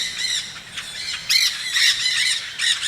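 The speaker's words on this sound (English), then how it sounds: "Here come a platoon of green parakeets, by far the most jarring with their shrieking." A flock of green parakeets shrieks overhead in harsh, piercing bursts, several loud squawks overlapping in quick irregular succession, close and insistent.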